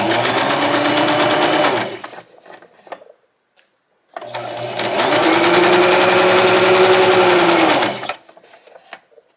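A sewing machine stitches chair upholstery fabric in two loud, close, steady whirring runs, a short one and then a longer one, separated by a brief pause with quiet handling noise.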